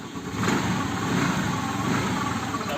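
A kick-started motorcycle whose electric start has failed is now running at a steady, rumbling idle, close and continuous for the whole stretch.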